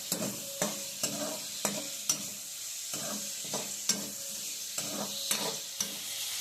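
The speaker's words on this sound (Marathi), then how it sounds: "त्यासाठी थोडंसं फ्राय करून घ्यायचं तेलात" Chicken hearts fry in oil with a bright, continuous sizzle, broken by regular spatula strokes scraping the pan about twice a second. The sound is close and clear, with no talking.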